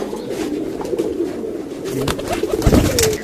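Pigeons coo softly and repeatedly nearby, their low throaty calls overlapping amid some rustling and light background noise.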